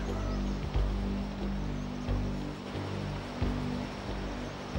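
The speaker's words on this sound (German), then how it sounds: "Wasser treibt die Gebetsmühle an" Flowing water driving a prayer wheel in Sikkim in the Himalaya: a steady, rushing wash of water with a low continuous rumble and a few soft knocks, constant and moderately loud with no speech.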